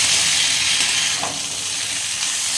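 Potatoes and eggplant with neem leaves fry in a little oil in a pan, giving a continuous, close, hissing sizzle with no talk.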